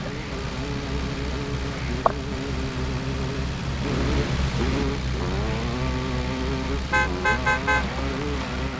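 A car drives along in the survival game SCUM with a steady engine drone throughout, a sharp knock partway through, and a few short horn toots near the end.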